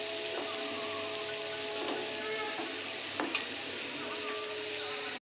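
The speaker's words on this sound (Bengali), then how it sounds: "এবার একটু লবণ আর হলুদ দেবো, দিয়ে একটু কষাবো।" Fish-head masala with green chilli, salt and turmeric sautéing in a pan gives a steady, quiet sizzle and hiss throughout, with a couple of brief utensil clinks near the end before it cuts off.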